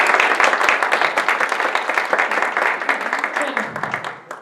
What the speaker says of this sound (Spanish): les pido un aplauso antes de iniciar